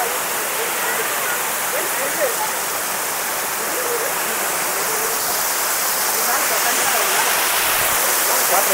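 Natural spring water at Ramapuram village near Arcot flows and splashes in a steady, continuous rush, close and fairly loud throughout.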